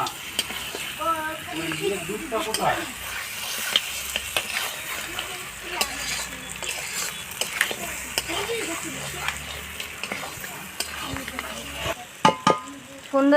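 Goat meat being stir-fried kosha-style in a pan over a wood fire, with steady sizzling and frequent scraping stir strokes running throughout, a voice talking intermittently over it.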